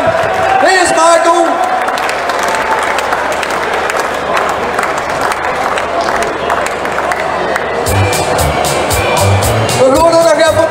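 Audience applause for award recipients at a Dutch prize presentation, sustained dense clapping and cheering filling the room throughout, with a voice talking over it near the end.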